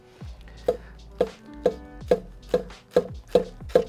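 A Chinese cleaver chopping food on a cutting board: eight sharp, evenly spaced knocks at a steady rhythm, close and crisp, each blade strike ringing briefly against the board, with no voices.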